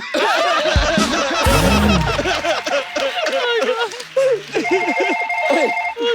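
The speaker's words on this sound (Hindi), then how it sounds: "सर मेरे को फोन आया, मैं उठा सकते हैं क्या है?" A telephone ringtone rings out in a television studio, steady repeated tones near the end, mixed with loud audience laughter and talk.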